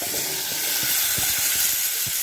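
Cauliflower florets dropped into hot oil seasoned with salt and turmeric, frying in a steady close sizzle with soft stirring knocks throughout, no voices.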